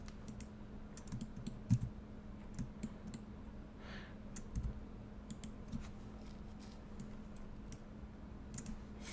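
Soft, scattered typing and key clicks on a computer keyboard, faint and close, with irregular taps over a low steady hum.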